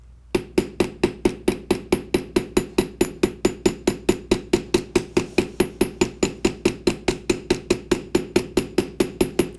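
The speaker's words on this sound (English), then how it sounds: "I just want a light scattering of texture that I'm working with here on my hammer" Rapid, evenly spaced hammer taps texturing sheet metal, about four per second, crisp and close, continuing without pause for the whole stretch.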